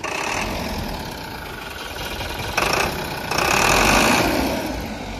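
A Tata 1109 BS3 truck's diesel engine idles with a rough note, then gets two short revs that rise and hold loud near the end.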